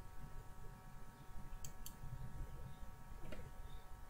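A computer mouse clicks on a button in a document editor, a few faint, crisp clicks over a low steady hum, very quiet and close with no voice.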